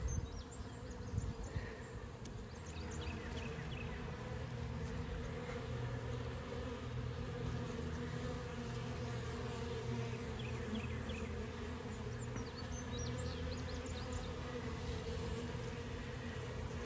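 Honey bees buzz continuously during a hive cutout, a dense steady drone close by, with brief higher whines from individual bees passing near, and no talking.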